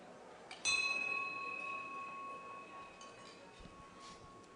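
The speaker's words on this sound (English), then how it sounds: "I just love to whack that bell." A single bell at a Rotary Club meeting is struck once, giving a clear bright ring that hangs and slowly fades over several seconds above quiet room noise.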